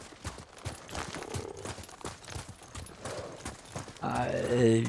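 Brisk, regular horse hoofbeats clip-clop throughout in the video game Ghost of Tsushima, and near the end a voice or tonal sound rises over them.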